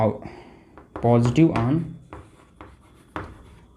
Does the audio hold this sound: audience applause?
no